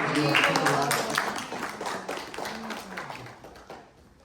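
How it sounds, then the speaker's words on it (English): Applause from a gathered group at a spiritual retreat session, steady clapping that starts fairly loud and gradually thins and fades, with voices heard alongside. "give us a round of applause"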